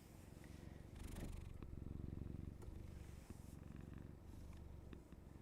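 A cat purrs continuously up close, a low steady rumbling vibration with soft rhythmic pulses, quiet but clear with a few light rustles.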